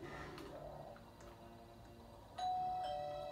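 Doorbell chiming in a Halloween video game, a single bright ding-dong tone ringing out clearly and sustaining near the end over quiet game ambience.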